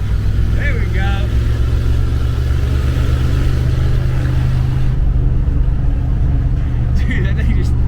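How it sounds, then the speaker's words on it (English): A 1971 International Travelall's engine roars loud and close with the gas pedal floored, a heavy sustained growl that holds steady throughout and drowns out any other detail. "Hold the gas pedal on the floor."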